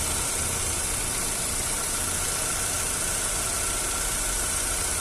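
A 2009 Chevrolet Astra engine running with a reported noise, a steady even drone with a constant hiss and no change in pace, no voices.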